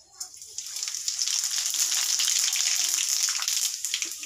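Whole garam masala, cumin and black pepper hit hot oil with a sudden loud sizzle that swells and holds steady, then eases slightly, with a voice faintly present.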